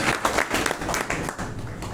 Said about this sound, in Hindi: उनके लिए एक बार जोरदार ताली हो जानी चाहिए सर।